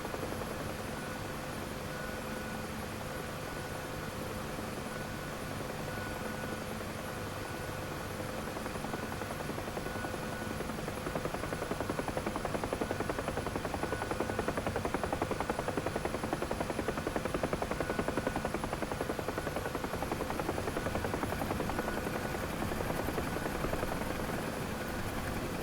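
A UH-1H helicopter in the DCS flight simulator game coming in to land near infantry on an airfield, its steady rotor and turbine drone filling the whole stretch, growing slightly louder midway, with no talk.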